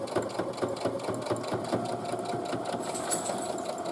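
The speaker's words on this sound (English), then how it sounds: "you are literally sewing along the edge of the folded fabric, making sure you don't catch the folded piece" A sewing machine stitches steadily along the edge of folded fabric while a pocket is made for a tote bag, with a fast, even mechanical chatter that is close and continuous throughout.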